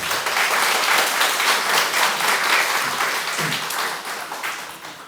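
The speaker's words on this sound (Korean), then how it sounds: "선교 보고에 대해서 한번 격려의 박수 했으면 좋겠습니다." A Korean church congregation applauding a missionary's report at a thanksgiving Sunday service, a full, sustained round of clapping that gradually tapers off toward the end.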